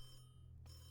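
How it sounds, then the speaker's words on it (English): A telephone rings off the hook in the PC horror game The Creepy Syndrome, a brief, steady, fairly quiet electronic ring with no voices over it. "I've got the phone ringing off the hook."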